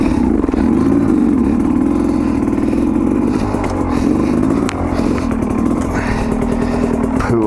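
A Sherco 250 SE two-stroke dirt bike runs close and loud on a trail, its engine buzzing steadily with slight throttle changes and no pauses.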